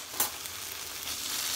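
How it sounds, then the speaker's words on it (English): Bacon sizzles and crackles steadily in a pan, a dense hiss with one sharper pop near the start and no talking. "For the meanwhile, I'm going to cook in some bacon."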